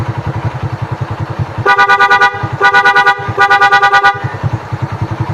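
A Barako 175 motorcycle's double horn honks loudly three times in quick bursts over the close, pulsing idle of the engine.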